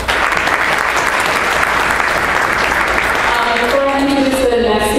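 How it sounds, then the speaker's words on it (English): A conference audience applauds steadily and loudly from start to finish, a dense wash of clapping with no break. "give him another round of applause"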